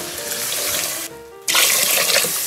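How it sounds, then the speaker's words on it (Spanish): Water pours steadily into a cooking pot for rice, a close, loud gushing stream that briefly drops away mid-pour before resuming even stronger, with no talking. "Voy a agregar mi agua."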